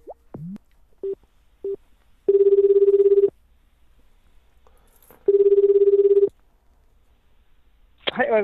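An outgoing telephone call starts with a few short dialing beeps, followed by two long, steady ringback tones separated by a pause, then a brief burst of line noise at the end.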